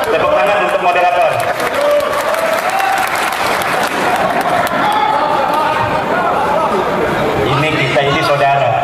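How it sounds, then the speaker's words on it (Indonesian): An audience at a talk on lineage and old manuscripts in Madura applauds steadily for the moderator. The dense, sustained clapping fills the whole stretch, with voices mixed in. "Tepuk tangan untuk moderator."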